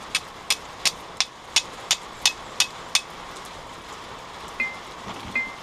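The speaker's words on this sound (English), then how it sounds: "act like you're trying to scrape off some of the material off the side of your striker" A flint is scraped down the side of a hand-forged steel striker in a steady series of about nine sharp, evenly spaced rasps, then two softer strokes after a pause. It is close, with no talk.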